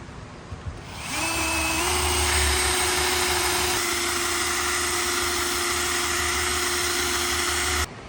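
A Wonder Wheel decal eraser spins up and grinds steadily against a decal on a truck camper, a loud, close, continuous high whine with a droning motor tone that holds until it stops abruptly.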